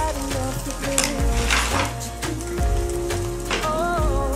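Oil heating in a frying pan, ready for zucchini and onions, crackles and hisses up close, with a few soft knocks and scrapes of the pan mixed in.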